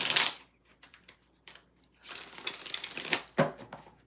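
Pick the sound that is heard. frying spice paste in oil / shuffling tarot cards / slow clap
shuffling tarot cards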